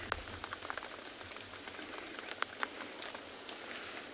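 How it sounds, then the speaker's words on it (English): Rain patters steadily on a roof during a morning safari drive in South Africa, a soft, even hiss with scattered brighter drop ticks, faint and without talking. "I hear the rain falling on our rain roof."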